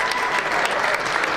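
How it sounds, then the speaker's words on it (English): Steady applause from a gala audience, dense and continuous, filling the whole moment with even clapping from a large crowd. "Please give him a round of applause."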